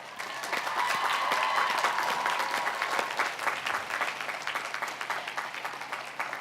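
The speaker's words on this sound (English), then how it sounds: "Let's offer them a round of applause." A commencement audience at the College of Education & Integrative Studies gives a 2017 graduating class's families and supporters a round of applause, a full, sustained roar of many hands that swells early and gradually settles.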